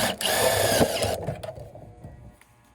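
A power drill driving screws while working on an old Goodman AC unit, a loud steady motor whine for about a second, then stopping into a few short bursts and quieter rattling.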